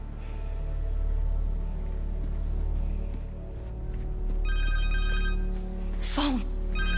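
Connor's cell phone rings in the video game Marvel's Spider-Man 2, a repeating electronic ringtone rising over a rumbling game score, with a brief sharp whoosh near the end and no speech.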